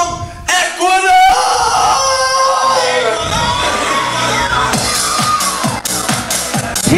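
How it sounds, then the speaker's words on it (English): Wrestling crowd at an event yells and cheers for the team Ecuador, a loud mixed roar of shouts and whoops with voices talking over it. "Never in my life would I hear people cheer for Ecuador."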